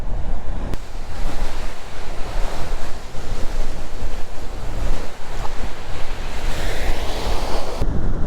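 Ocean waves break and wash onto a beach with steady, loud surf, mixed with strong wind buffeting the microphone.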